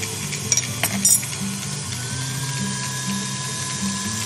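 An electric mixer beats red berry soufflé batter with sweetener: a steady mechanical whir with a rhythmic low churning pattern, running continuously, with a few brief clinks near the start.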